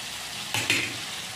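Chicken gizzards fry in oil with a steady, close sizzling hiss, broken by two short scraping stirs near the middle, with no voices.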